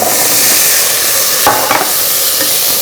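Vegetables sautéing in hot oil in a pan while cooking ash gourd (kumbalakayi) tovve, giving a loud, steady close sizzle with a couple of brief stirring scrapes.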